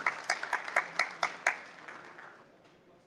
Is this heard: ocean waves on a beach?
no